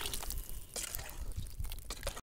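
Close, wet glugging and splattering sounds as a thick ground paste of onion, tomato and pepper is poured into a pot for dried-fish curry, lasting only a couple of seconds.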